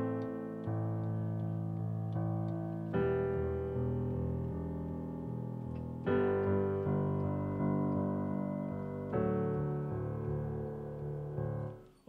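Piano plays slow, sustained three-note chords in a sad progression, with left-hand octaves in the bass, each chord struck and left ringing before the next change, alone without voices.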